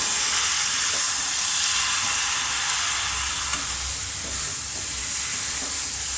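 Paneer being stirred and mixed in a frying pan for dhaba-style paneer bhurji, a steady close sizzle and hiss with soft scraping stir strokes throughout, no voices.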